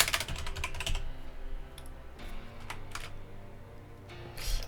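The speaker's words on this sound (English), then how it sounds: "You then want to go and type in the player you want." Rapid clicking of keys on a computer keyboard as a player name is typed into a FIFA 23 trading site, with bursts of quick keystrokes and short pauses, close and fairly quiet with no voices.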